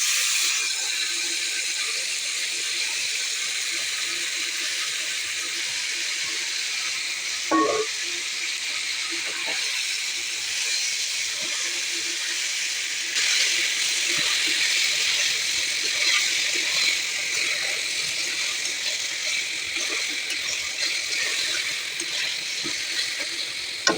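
Meat sizzling in a pan of browned onions while biryani is cooked, a continuous loud hiss and crackle that holds steady throughout, with one brief clatter early on and no talk.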